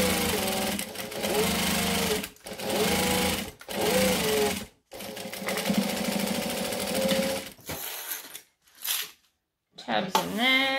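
A sewing machine backstitches binding onto stretchy fabric: a loud, close, steady mechanical whir in several runs separated by short pauses, with brief stops and restarts near the end.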